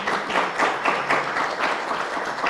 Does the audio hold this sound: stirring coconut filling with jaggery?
no